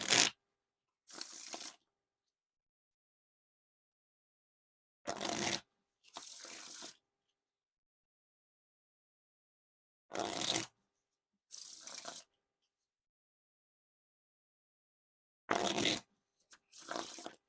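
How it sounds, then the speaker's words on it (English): Shuckers playing cards being riffle shuffled, heard as three repeated pairs of crisp, close fluttering bursts, each shuffle followed by a softer bridge cascade, separated by silence. "Now for the riffle shuffle or bridge shuffle."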